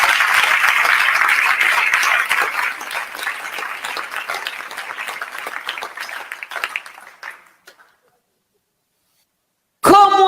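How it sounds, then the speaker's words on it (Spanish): Church congregation applauding the Lord during a worship service: loud sustained clapping that gradually thins and fades out, followed by silence and a brief burst of sound at the very end. "Dele ese aplauso al Señor en esta hora."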